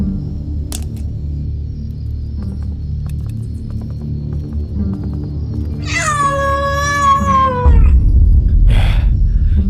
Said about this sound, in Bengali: এ তো একটা বন বিড়াল